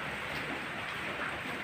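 Steady rain falls around an old Mitsubishi L300 van, a continuous, even hiss with no distinct drops or voices.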